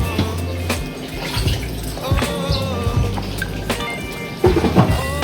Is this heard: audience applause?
no